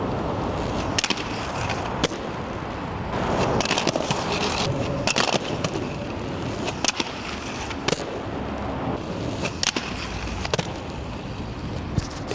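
Aggressive inline skates with UHMW soles grinding along a ledge, a scraping slide broken by sharp clacks and impacts at uneven intervals, close and fairly loud with no talking.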